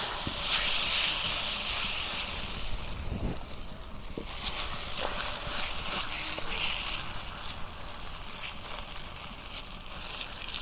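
Spicy pitha frying in hot oil in a kadai, a steady close hiss and sizzle running the whole time with faint crackles, no voice over it.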